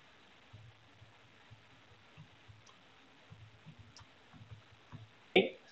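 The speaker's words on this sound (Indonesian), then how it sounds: "mengetik saja dulu sedikit." Someone types on a computer keyboard with faint, irregular key clicks in short bursts, and one sharper click comes near the end. The room is otherwise quiet.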